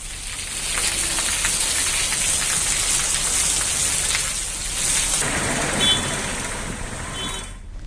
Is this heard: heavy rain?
yes